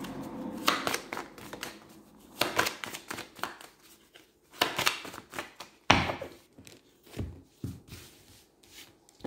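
Tarot cards shuffled and laid out one by one for a ten-card spread, giving close, soft rubbing and flicking bursts in irregular clusters with brief pauses between.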